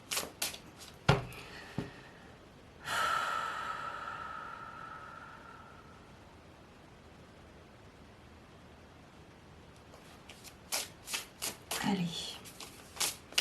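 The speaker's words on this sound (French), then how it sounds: "Alors, on va piger une carte et puis on va voir ce qu'elle nous dit." A deck of oracle cards is shuffled close up in a few riffling bursts with soft slaps and a longer hiss of sliding cards, while a person speaks briefly.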